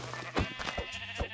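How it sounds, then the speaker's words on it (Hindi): A goat in the Minecraft video game bleats several times in quick, wavering cries, close and fairly loud with no talk over it. "ए बकरी बकरी बकरी"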